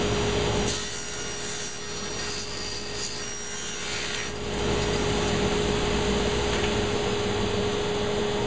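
Wood is sawn by hand to cut the top for a shop-made fly tying bench, a steady rasping stroke rhythm over a constant background hum.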